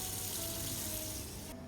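Water streams steadily from a tap into a pasta pot in a home kitchen, a close, continuous rushing pour that cuts off abruptly near the end.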